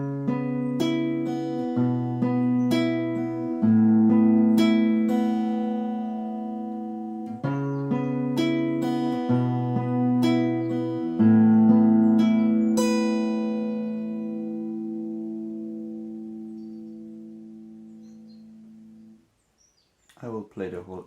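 Acoustic guitar in standard tuning plays the intro of a song, with picked and strummed chords in a repeating pattern that end on a long ringing chord that fades out, followed by a brief handling noise.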